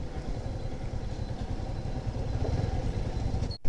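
Motorcycle riding across a mountain bridge between Darjeeling, West Bengal and Sikkim, its engine a steady low rumble with road and wind noise throughout, ending in a brief sharp knock.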